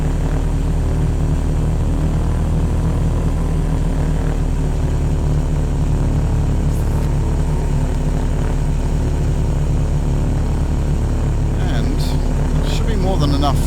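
A propeller aircraft taxis in the Prepar3d flight simulator around Manhattan, a loud, steady engine drone with a constant low hum that holds level throughout, while someone talks over it.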